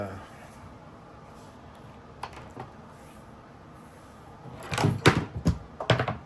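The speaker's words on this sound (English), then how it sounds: "knocking stuff down over here." Objects knocked over in a painting studio beside a small acrylic canvas: a cluster of sharp thuds and clatters near the end, following a stretch of quiet room tone.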